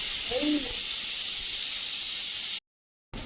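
A pressure cooker boiling peanuts, letting out a loud, steady hiss of steam that holds for a few seconds, with a brief voice early on, before cutting off abruptly.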